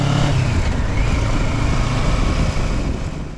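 Kawasaki Versys 650 motorcycle engine from a 2024 model running steadily while riding, a dense low rumble with wind noise, loud and close throughout and easing slightly near the end.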